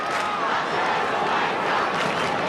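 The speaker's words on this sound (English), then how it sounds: "Good crowd in at Telstra Dome." A large football crowd at Telstra Dome roars in a dense, steady wash of noise throughout a Kangaroos versus Carlton match, with no single voice standing out.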